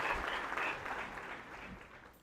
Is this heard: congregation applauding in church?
yes